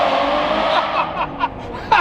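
A loud Ferrari race car engine revs and drones, with short sharp rises in pitch as it accelerates, close by.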